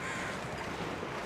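Crows cawing out on a street, their harsh calls blending into a continuous, moderately loud outdoor bed of noise for over a second.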